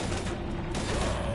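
Rapid gunfire bursts from Mass Effect 3 combat, dense and continuous over a low rumble, with battle noise filling the short span.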